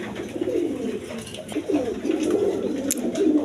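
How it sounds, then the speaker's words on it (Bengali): A pair of Lahori pigeons at a seller's place give continuous throaty coos, near and steady, with several birds' calls running together and faint background activity. "দর্শকবৃন্দা এইখানে এক পের লাহোরি কবুতর আছে দেখেন"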